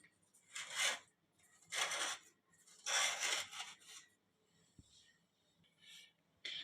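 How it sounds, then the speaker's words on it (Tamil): A knife is run around the edge of a tin of baked caramel pudding, making about four soft, rhythmic scraping strokes close by, with quiet pauses between them. "இப்போ சுற்றியும் ஒரு கத்தி எடுத்து இதை சுற்றி இப்படி எடுத்து விட்டுக்கலாம்."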